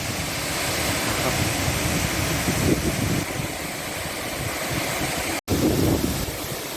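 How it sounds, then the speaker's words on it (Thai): A constant roaring rush of falling water from the Seven Colors Waterfall in Bueng Kan, Thailand, dense and steady, with a brief dropout near the end before the roar resumes. "แต่น้ำตกก็ยังอยู่ที่เดิมครับไม่เปลี่ยน"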